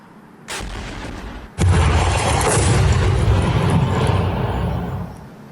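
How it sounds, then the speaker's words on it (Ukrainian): A loud blast followed by a heavy, sustained roaring rumble that slowly fades, preceded by an earlier thud; booming explosions outdoors at night during a drone attack on Dnipro. "Цієї ночі містяни також прокидались від гучних вибухів."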